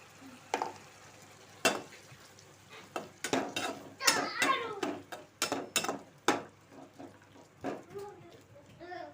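Tomatoes cooking in a pan with turmeric and ginger paste, broken by sharp clinks and scrapes of a spoon stirring against the pan, uneven and close, with a faint sizzle underneath and a voice speaking at times.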